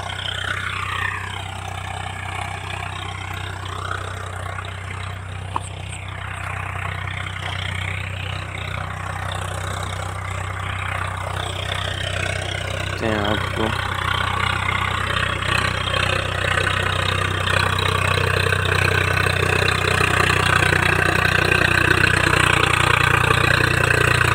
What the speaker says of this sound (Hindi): ट्रैक्टर चल पड़ा भैया